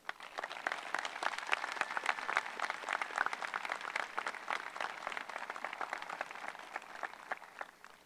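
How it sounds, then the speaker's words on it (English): Graduation audience at the AHHS Class of 2017 ceremony applauding their salutatorian, a steady wash of dense clapping, fairly faint and distant, lasting throughout. "Now let's hear some cheering for our salutatorian, Alison Kane"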